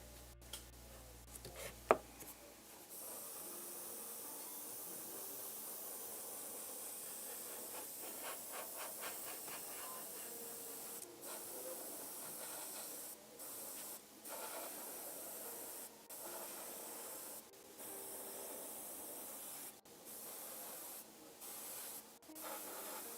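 Paint sprays steadily onto a Frost Gargant miniature model, a continuous soft hiss that starts after a brief knock and runs for about twenty seconds, broken by a few short pauses and clicks, close and fairly quiet.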